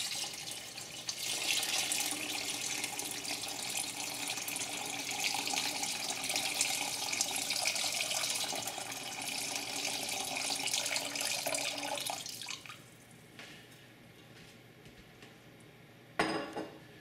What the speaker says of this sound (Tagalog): Basta dahan-dahan lang yung pagbuhos ng tubig.